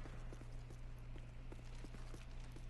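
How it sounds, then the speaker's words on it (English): Rapid, evenly paced player footsteps in the first-person shooter Call of Duty: Modern Warfare 3, quiet regular thuds over a low steady background hum. "my footsteps are loud as shit"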